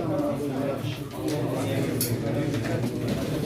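Pigeons coo at a pigeon auction, low soft calls set under steady close talk among several men.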